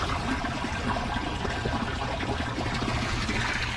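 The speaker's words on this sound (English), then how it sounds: "I just need to fill it up with water more to make sure it works." Water runs steadily into a home fish tank to test a newly set-up drain, a continuous rushing, gurgling pour at even loudness throughout.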